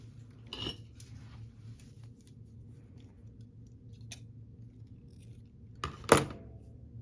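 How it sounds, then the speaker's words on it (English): Scissors snip elastic at a crafting table, with a couple of short metallic clicks and cuts separated by quiet, the last snip the loudest. "Oh, scissors."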